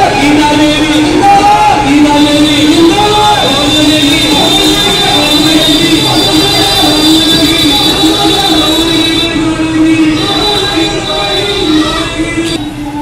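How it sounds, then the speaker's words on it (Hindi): Crowd at a councillor election rally, a dense murmur of many voices with tonal music or chanting carried over it, loud and continuous, with people talking nearby. "कितने भीड़ है"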